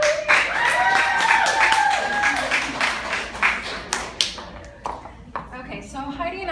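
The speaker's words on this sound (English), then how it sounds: "give them a round of applause" A crowd at an evening business event claps in applause that thins into scattered individual claps, while someone speaks over it throughout.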